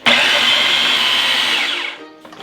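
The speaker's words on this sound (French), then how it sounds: "Beurre à côté, on rebranche et on mixe." A blender loudly whirs as it mixes homemade garlic butter for an old-fashioned recipe, running steadily for about two seconds before winding down and cutting out.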